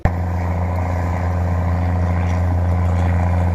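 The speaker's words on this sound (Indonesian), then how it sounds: "Traktor." A loud, steady tractor engine rumble with a deep low drone, running continuously and close by, idling or chugging along on a farm.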